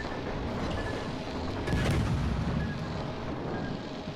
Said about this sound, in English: Okay, we just got hit by torpedoes.